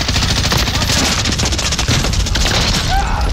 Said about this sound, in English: I shot him in the fucking head